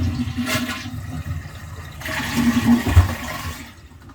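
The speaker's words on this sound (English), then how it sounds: "So then we're going to flush the toilet." A home toilet with a newly fitted Luxe Bidet Neo 185 seat flushes nearby: a loud rushing gush of water that swells midway and drains off over about four seconds, with no talking.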